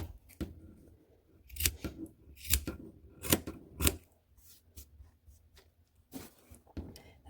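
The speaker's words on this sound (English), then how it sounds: "This looks a little uneven over here, so I'm going to just give it a little trim" Scissors snip repeatedly at a palm leaf keychain, a series of sharp, close, crisp cuts arriving in uneven bursts with short pauses between them and no talking.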